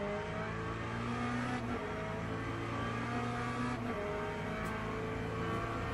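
A Corvette race car engine in a racing video game holding a steady high drone, the pitch dipping briefly at gear changes, loud and continuous with no talking.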